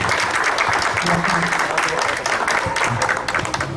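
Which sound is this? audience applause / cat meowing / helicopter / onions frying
audience applause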